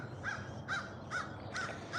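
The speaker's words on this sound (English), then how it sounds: "You hear all the birds." A crow caws five times in a steady, evenly spaced series, moderately distant, over a soft background hiss.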